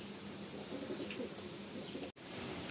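Soft cooing of pigeons in a crowded loft in Kolkata, faint and steady, with low murmuring calls layered beneath a hiss of room noise and a brief dropout near the end.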